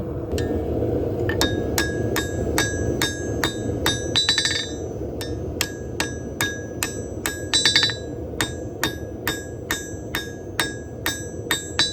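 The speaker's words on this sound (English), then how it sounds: "I'm using the flat hammer" Rhythmic metallic strikes from a flat hammer forging knife steel ring out on an anvil, evenly spaced and sharp, with a few quick ringing double taps over a steady workshop rumble.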